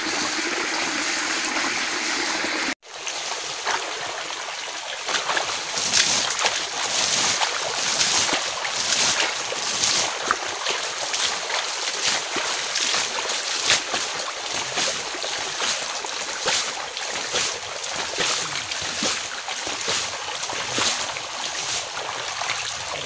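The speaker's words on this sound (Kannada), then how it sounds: "ಈ ರೀತಿ ಕಣಿವೆಯಲ್ಲಿ ಹರಿದು ಬಂದ ನೀರನ್ನು ನೋಡಿ" Water rushing down a valley channel in an old-style areca-nut plantation irrigation system, a steady broadband flowing wash heard close and continuous after a brief dip at the start, with no talk.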